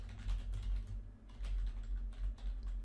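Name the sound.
typing on a computer keyboard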